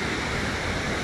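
Steady rushing roar of a waterfall at Waterton, dense and continuous at close range with no voices over it.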